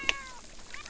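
A single short cat meow from The Sims 4 game, a quick bright call over a faint background hum.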